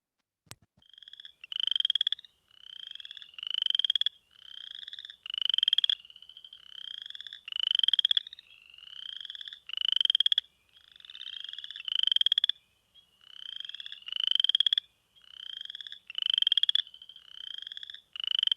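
A Chicago-region frog calls with repeated rising trills, each a rapid series of pulses like fingers run over comb teeth, close and clear against silence, about a dozen calls in steady succession.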